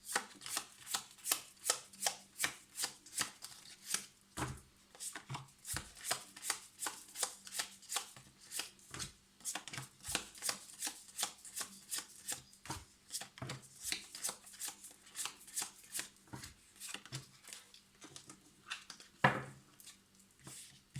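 Tarot cards being shuffled and dealt out one by one, a long, even run of soft, close flicks and taps with one sharper knock near the end, quiet and without speech.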